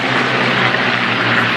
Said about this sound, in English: There are two Gladiators flying in the world, and here they are today in front of you.